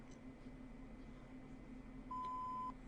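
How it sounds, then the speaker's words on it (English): A single steady electronic beep of about half a second sounds clearly over a quiet hum during an ad break in a Moo ProLeague esports broadcast. "Beep."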